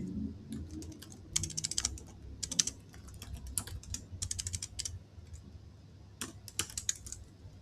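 Computer keyboard typing in quick, irregular bursts of close, crisp key clicks separated by brief pauses, with no talking.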